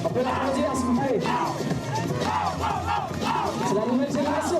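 Loud crowd cheering and shouting at an event in New Caledonia, a dense continuous roar of voices with whoops throughout, no distinct clapping picked out.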